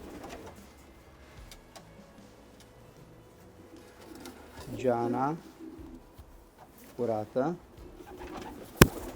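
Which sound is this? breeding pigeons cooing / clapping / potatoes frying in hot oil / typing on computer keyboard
breeding pigeons cooing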